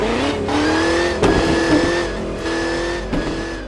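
A hi-tech RC racing car with a simulated supercharged V8 engine sound revs and roars continuously, rising and falling in pitch with brief tire-squeal bursts, loud and close with no talk.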